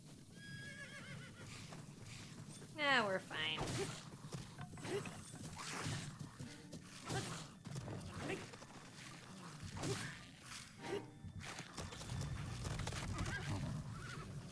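Horse in the video game Zelda: Breath of the Wild, a clear whinny followed by shorter snorts and clip-clopping hooves, over quiet game ambience.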